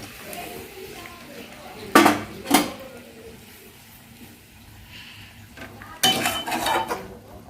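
Fried prawns go into a pot of boiling coconut curry with a few sharp clanks and clatters of utensil on metal, close and loud, against a low simmering background while a person talks.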